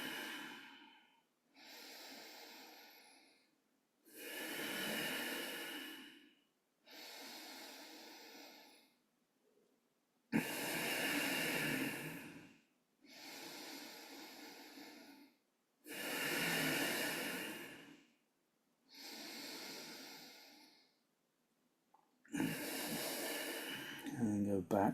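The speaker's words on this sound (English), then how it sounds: "Do a few Udanic flushing breaths." Forceful yogic flushing breaths drawn and pushed through the nose during a recovery yoga session, about nine long rushing breaths in a steady rhythm, close and loud, with short pauses between them.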